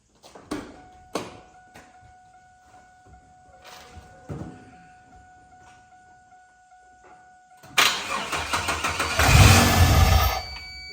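A 1997 Pontiac Firebird engine cranks and catches, roaring loudly for a few seconds before stalling out, after some quiet clicks and thunks.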